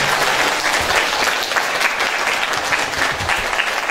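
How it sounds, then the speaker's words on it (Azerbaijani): Parents at a school alphabet celebration applaud the teachers in a dense, sustained burst of clapping that stays loud and even from start to finish, with no talking over it. "Mən buradan dəyərli müəllimlərimizə, bir valideynlərimizdən alqış istəyirəm."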